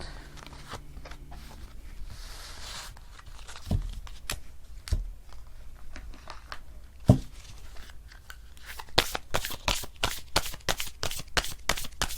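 Oracle cards being shuffled for a tarot reading: soft rustling and shuffling at first, then a run of sharp, quick card snaps and slaps that grow denser toward the end, fairly close and quiet, with no speech.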